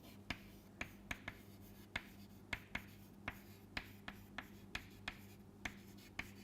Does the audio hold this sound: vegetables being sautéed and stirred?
no